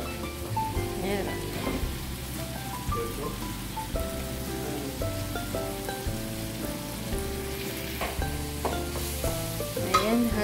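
Vegetables and beef for denengdeng and ampalaya con carne stirred and frying in a pan, a constant crackling sizzle with scraping stir strokes, under faint background music and occasional quiet talk.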